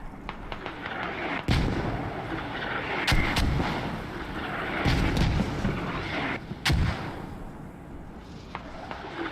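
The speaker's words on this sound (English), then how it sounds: "Mortars landing exactly where they need to be" Mortar rounds land in a tactical shooter match, a string of sharp booming impacts at irregular intervals over a rumbling battlefield bed, some close and heavy, others more distant.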